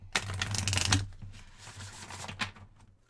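Tarot cards are shuffled close up in two quick riffling bursts, soft papery flutters with a short pause between, with no talking.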